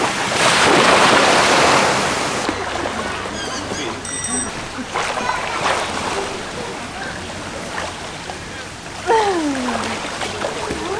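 Ocean waves wash onto a beach on Koh Tao, Thailand, in a loud, close surge. Gusts of wind buffet the microphone, and faint voice-like sounds come through in places.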